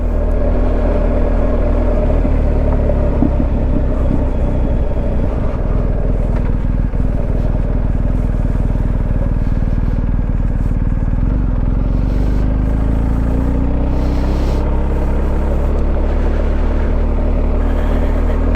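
A BMW GS Adventure motorcycle rides steadily with its engine droning loud and close, the revs shifting as it engine-brakes on a byway, with no talk over it.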